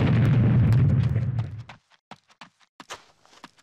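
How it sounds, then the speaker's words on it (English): A bazooka round blows up a tank in Army Men 3D: a loud, rumbling explosion lasting about a second and a half, then scattered small clatters and pops of debris as it fades. "Blow the tanks up with the bazooka."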